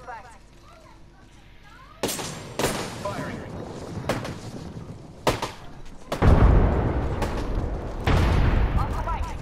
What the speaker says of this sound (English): Firing for effect. Firing.